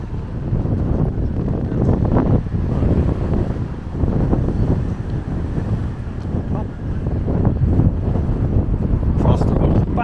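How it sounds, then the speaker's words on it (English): Steady wind buffeting the microphone at Los Gigantes, Tenerife, a continuous low rumble that gusts and swells throughout, loud and close. "And it's still windy."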